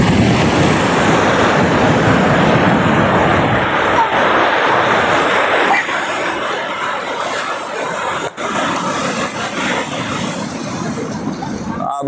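Sea waves wash steadily onto Rangbai beach at sunset in a broad, roaring surf rush mixed with buffeting wind on the microphone, easing slightly halfway through, with voices faintly present.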